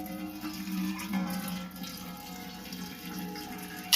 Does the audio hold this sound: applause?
no